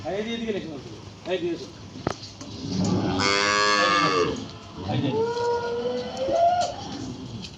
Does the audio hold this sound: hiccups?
no